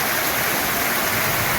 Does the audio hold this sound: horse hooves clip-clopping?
no